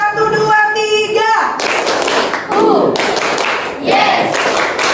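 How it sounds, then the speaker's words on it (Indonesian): A group claps together on a counted chant, with sharp bursts of hand claps between spoken and sung voices leading the count. "Tepuk 1, tepuk 2, yes. Tepuk 3, keren. Tepuk 1, 2, 3,"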